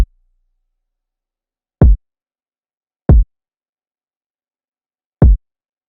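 A punchy kick drum sample from a beat hits in isolation, three deep thumps spaced irregularly in a sparse pattern after a clipped hit at the very start.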